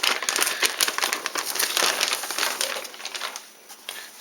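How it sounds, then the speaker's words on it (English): Plastic bag crinkling and crushing while an Intel NUC6i7KYK Skull Canyon mini PC is unboxed, a close, loud, busy crackle of handled plastic that thins out near the end. "Comes in a plastic bag."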